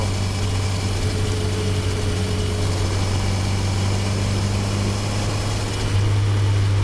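A Honda CB1000R motorcycle engine idling, picked up by a microphone mounted at the engine: a steady, even low throb that holds at a constant level throughout, with no voices.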